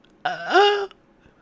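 A single throat-clearing cough, close and fairly loud, rising in pitch before cutting off, followed by quiet.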